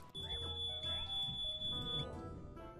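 Smoke detector fire alarm sounding in a home, a steady high-pitched electronic tone held throughout and layered with game music and other sounds.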